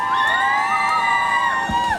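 An outdoor village audience cheers performers taking the stage on a frosty evening: a close, continuous wash of whooping and shouting voices with sustained calls ringing over the crowd.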